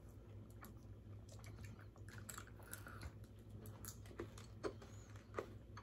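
Skittles candy crunched and chewed by mouthfuls, close and soft, with small wet bites and squishy smacks repeating steadily over a low background hum.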